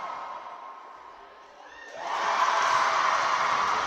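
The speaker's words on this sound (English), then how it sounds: "The crowd, the UoM supporters really encouraging their team." University netball supporters in a varsity match crowd, a low murmur that swells into loud cheering and shouting from many voices partway through.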